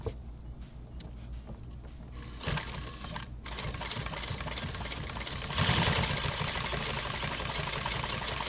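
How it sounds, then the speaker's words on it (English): A sewing machine stitches a wrapped nylon tactical EDC belt in a steady, close, continuous whir. The stitching grows louder and faster partway through, with no talk. "and then I'll hold this when I start sewing"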